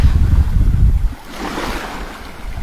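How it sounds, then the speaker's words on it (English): Ocean waves wash onto a beach close by, a heavy surge of surf breaking and then fading into a softer hiss of receding water, with wind buffeting the microphone. "The waves are coming in."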